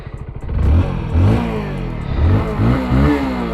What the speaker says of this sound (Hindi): एग्जॉस्ट थंब आप चेकआउट कर लो।